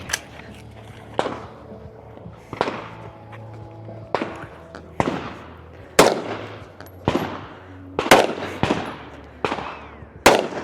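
Rifle shots at an elite men's regional shooting competition in Florida crack sharply at irregular intervals, about a dozen loud reports, each with a short echoing tail, and faint commentary sits beneath them.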